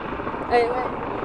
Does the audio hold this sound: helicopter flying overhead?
yes